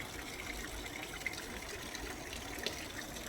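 Water runs through the small streams of a backyard pond in a steady, soft babble and trickle, moderately close, with no voices present.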